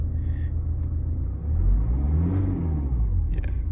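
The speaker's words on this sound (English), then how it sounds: "I'm revving the vehicle" A car engine revs during an OBD2 diagnostic check, a low rumble rising in pitch to a peak and settling back, close and continuous, with no speech.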